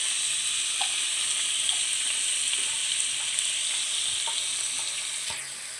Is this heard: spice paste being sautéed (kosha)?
yes